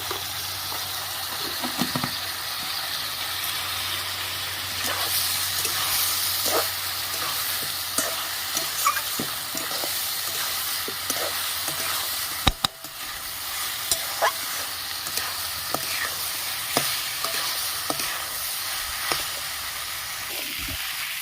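Vegetable daliya khichdi, broken wheat and vegetables salted in a pan, is sautéed and stirred in a home kitchen. It gives a continuous loud sizzle with scattered scraping stir clicks and one sharp knock near the middle, and no one speaks.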